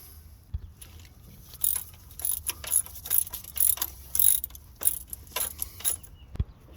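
Ratchet wrench tightening the center mount bolt on a 2013-2018 Nissan Altima engine, a series of close rapid clicking bursts in an uneven rhythm.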